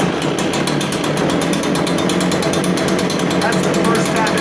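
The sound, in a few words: Echo PB580T leaf blower engine running after first start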